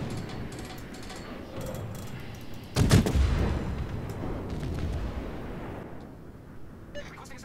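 Anti-aircraft guns firing aboard a warship in World of Warships, a burst of rapid booming shots midway over a continuous low rumble of battle, with faint crackling later.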